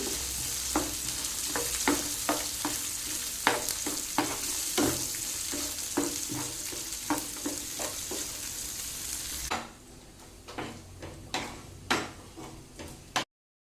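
Garlic and ginger fry in hot oil with a low, steady sizzle, broken by frequent sharp clicks and taps of a spoon stirring in the pan. The sizzle drops away near the end while the stirring clicks continue, and no one speaks.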